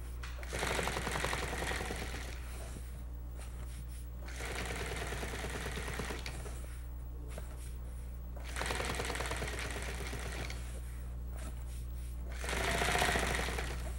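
A sewing machine runs in steady bursts, stitching down the folded edge of a Bimini top flap, its rapid mechanical chatter stopping and restarting several times over a constant low hum.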